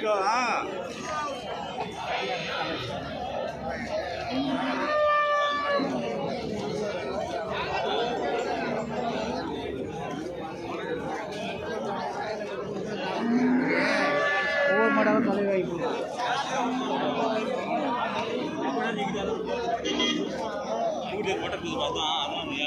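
Crowded village cattle market at Karimangalam in Krishnagiri, where cows and goats are sold, with steady crowd chatter and people talking throughout and a couple of brief animal calls rising above the hubbub.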